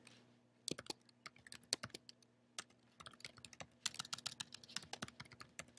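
Computer keyboard typing a chart title into a spreadsheet, with irregular bursts of crisp close key clicks that pick up pace toward the end; no one speaks.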